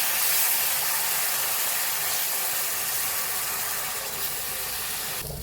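Water poured into hot turmeric and red chilli masala in a pan, a loud, continuous close hiss of steam and sizzling that holds steady throughout.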